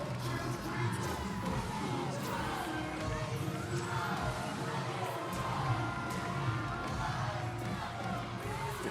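Crowd cheering in an arena at a cheerleading world championship, a continuous roar of shouts and whoops from many spectators, with loud music or commentary mixed through the noise.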